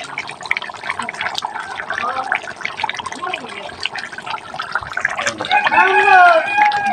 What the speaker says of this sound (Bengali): আমি দুধ দিয়ে দিলাম